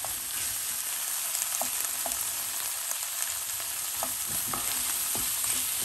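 A crumbled chicken broth tablet being stirred into a sizzling pan, steady frying hiss throughout with scattered light scrapes and taps from the spoon.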